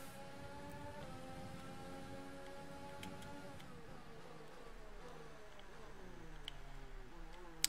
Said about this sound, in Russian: Слушайте, капитальный дождь начался